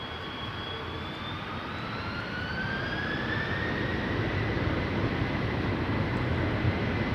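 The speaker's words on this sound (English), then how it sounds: "It is the third 747 of the show" A Saudia Boeing 747 jet taking off from Polderbaan runway 36L at Amsterdam, its engine roar building steadily and rising whines sweeping upward as it grows louder and nearer, with no voices.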